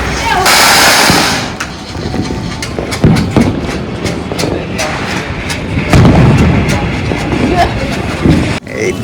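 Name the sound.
Diwali firecrackers bursting on rooftops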